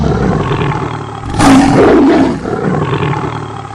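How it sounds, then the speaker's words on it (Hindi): A remote-controlled robot in a village lets out a loud, lion-like roar that swells over a noisy background and fades after about a second. "रिमोट में से एक बटन दबाकर उस रोबोट से शेर की तरह दहाड़वा कर"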